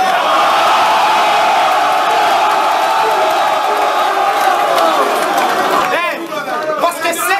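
A packed audience at a French Rap Contenders rap battle roars in a loud, steady wall of chatter and cheering that fills the room, giving way near the end to a voice speaking over the thinning crowd.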